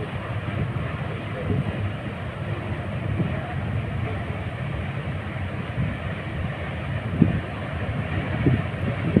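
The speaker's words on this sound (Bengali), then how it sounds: "এই মুহূর্তে আলিং ব্রিজের উপর দিয়ে ট্রেন চলাচল করতেছে, ট্রেন চলার দৃশ্য।" A train crosses the Aling bridge, producing a steady, continuous low rumble that stays fairly even throughout, with a couple of brief louder knocks near the end.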